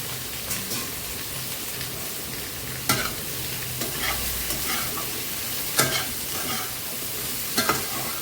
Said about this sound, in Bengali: সাথে সবজিগুলো আমি ভেজে নিব